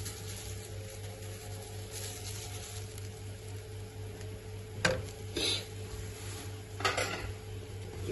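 A spoon scrapes and clinks against a pan while white sauce pasta ingredients are stirred and sautéed, with a few sharp metallic knocks over a low steady background hum.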